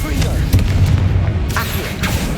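A Confringo blasting spell explodes in Hogwarts Legacy amid a magical duel, with deep booming blasts and sharp cracks that land loud and close, plus spoken spell incantations mixed in.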